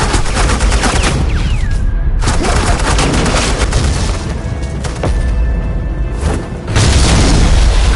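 Suppressing fire in the Batman: The Enemy Within video game: loud, continuous bursts of rapid gunfire and booming shots fill the entire stretch, with no talking.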